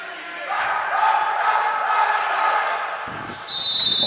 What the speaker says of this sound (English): Hometown crowd giving it to the visiting Westwood team.